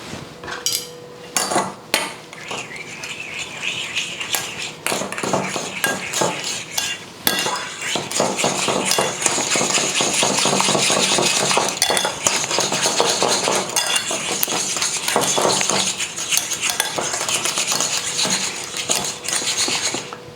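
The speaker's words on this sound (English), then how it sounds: "Just now we mix this very well." Sour cream dressing with white wine vinegar being mixed in a bowl: steady utensil scraping and clinking against the dish, continuous and close, louder through the second half, with no talking.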